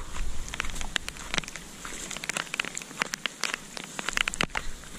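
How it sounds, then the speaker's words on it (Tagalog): Steady rain falling outdoors, a dense crackling patter of drops hitting surfaces with scattered sharper splats, continuous and fairly close throughout. "Di pala tumigil yung ulan, mga kajirik."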